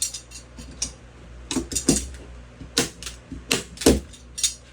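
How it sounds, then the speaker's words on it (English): A staple gun drives staples through canvas stretched over an old wooden frame: sharp, close clacks in irregular succession over quiet handling noises. "You put the tension and place 2 staples"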